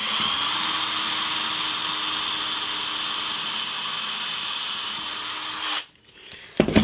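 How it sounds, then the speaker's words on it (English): A power drill bores a hole right through a piece of wood during work on a bass guitar, with a steady, loud whine that runs for several seconds before cutting off abruptly, followed by a few light knocks. "I'm going to drill a hole right the way through the wood on this last hole here"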